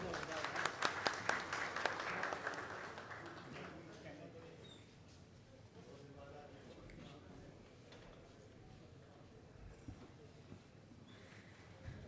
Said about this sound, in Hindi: आप सभी से अनुरोध है, करतल ध्वनि से महोदय का स्वागत करें